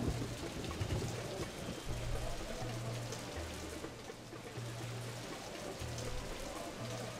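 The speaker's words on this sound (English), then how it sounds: "Why is it always raining?" Steady rain patters across the whole stretch in the 1997 Blade Runner video game, a dense wash of drops with low tonal music underneath and no voices.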